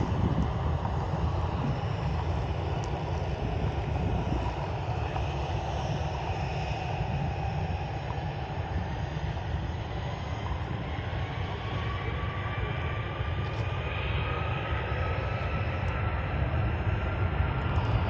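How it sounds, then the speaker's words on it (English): Airbus A330 with split scimitar winglets and Rolls-Royce Trent 700 engines taxiing toward runway 5 left at Manchester Airport, a steady, loud broadband jet roar with a rumbling low end and some wind buffeting throughout. "listen to them Rolls-Royce Trent 700s raw"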